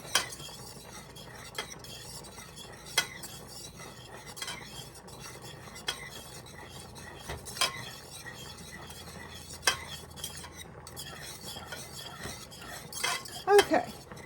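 A spoon stirs thick macaroni and cheese sauce in a pot, making steady scraping strokes punctuated by occasional louder clanks against the metal, close up and alone with no talking.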